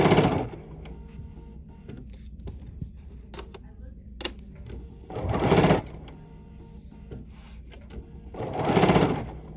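A sewing machine stitches along the fabric edge of a quilted door stop in short bursts of rapid mechanical whirring, separated by pauses where a voice talks over quieter handling noises.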